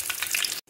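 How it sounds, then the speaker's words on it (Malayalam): Mustard seeds and fenugreek spluttering in hot oil for Kerala puli inji, a brief, close, crackling sizzle that stops abruptly. "കാ ടീസ്പൂൺ ഉലുവ കടുക് പൊട്ടി കഴിഞ്ഞാൽ"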